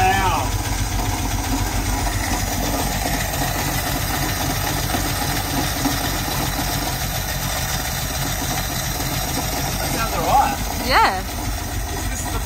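A barn-find Ford XY Falcon ute engine idles with a steady, even rumble after its noisy lifters quieten down, while people talk excitedly over it.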